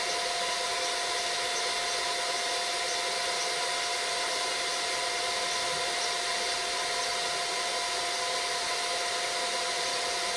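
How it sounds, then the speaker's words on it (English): A Lidl Parkside inverter arc welder runs at 130 amps on very thick steel with 3.2 mm rods, giving a continuous, even crackling hiss that holds steady and close throughout, with no voices. "we're running this at 130, we're burning it hot, and the reason why we're burning it hot is because we're welding very thick steel"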